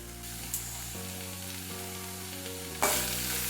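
Steady sizzling of potato and eggplant pieces frying in a pan with a few soft scrapes of stirring, close and continuous, no voices.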